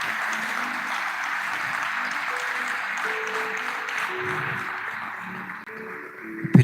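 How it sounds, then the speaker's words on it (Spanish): A church congregation at a Spanish-language Christian service applauds in a steady, sustained wash of clapping, with sustained musical tones underneath and a louder burst right at the end. "Den un aplauso al Señor."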